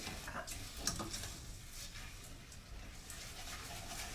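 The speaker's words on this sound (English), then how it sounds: "Stir that up nice and good" A spoon churns a thick mixture in a pot with soft, continuous scraping and squelching close by, at low volume.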